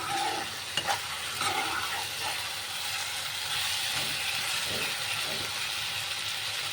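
Aloo dum with onion, tomato, green chilli and whole garam masala frying in a pan while being stirred, a steady close sizzle with scraping strokes of the spoon throughout.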